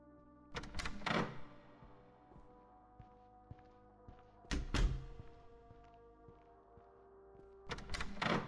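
Heavy thudding monster footsteps in a cardboard-box world video game, three clusters of loud stomping thumps spaced a few seconds apart, with quieter ambient game sound between them.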